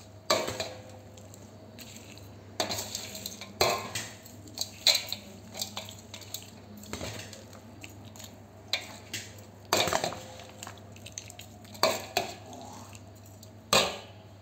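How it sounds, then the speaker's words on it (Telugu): A tempering of popu being stirred in a pan, heard as irregular scraping and clinking strokes of a utensil against the metal, close and fairly quiet, with no one talking. "అలాగే పోపు మంచిగా కలుపుకున్నామండి."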